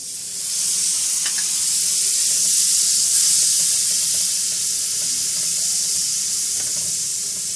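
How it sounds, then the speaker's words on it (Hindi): Water hits frying masala in a hot pan, setting off a loud continuous sizzle and hiss that holds steady for several seconds, close up, with no talk. "हल्का सा हम इसमें पानी ऐड करेंगे।"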